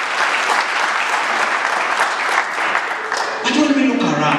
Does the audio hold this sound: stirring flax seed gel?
no